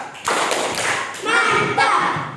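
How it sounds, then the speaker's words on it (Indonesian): A class claps together in a short burst of rhythmic hand claps, with a few voices mixed in, close and fairly loud. "Tepuk tangan. Tepuk mantap."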